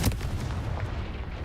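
A Confringo fire-blast spell in the Hogwarts Legacy video game lands as a single loud, booming burst that decays over about a second and a half.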